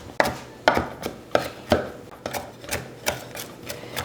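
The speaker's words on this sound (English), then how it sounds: "Next, we're going to chop our cilantro. Give it a rough chop" A knife rough-chops cilantro on a cutting board in a series of sharp, irregular thuds, about nine strikes over four seconds, close and clear with no talking.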